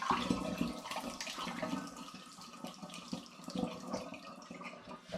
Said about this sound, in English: I'm now going to add it into the demijohn. I'll begin by pouring.